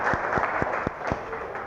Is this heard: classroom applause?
yes